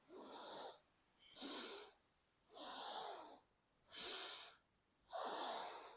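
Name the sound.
slow deep inhaling and exhaling during breathing exercise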